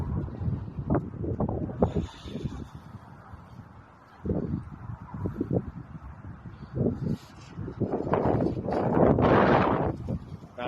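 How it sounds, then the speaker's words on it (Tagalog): Gusts of strong, cold wind roar and buffet the microphone outdoors in Calgary, Canada, rising strongly toward the end, while people talk loudly over the rushing air. "Lamig. Lakas ng hangin eh."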